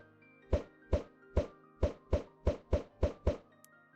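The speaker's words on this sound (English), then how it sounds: "To get a chicken, you can just throw eggs at the ground." Eggs thrown onto the ground in Minecraft, heard as about nine soft, hollow plopping thuds at a steady, fairly quick rhythm. Each one lands close and clear, with no talk over them.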